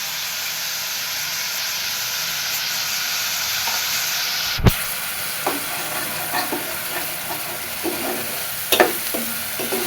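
Ginger and cumin paste hits a hot frying pan: a loud, continuous sizzle and hiss that briefly cuts out with a sharp jolt as the paste lands, then carries on with scattered pops and crackles.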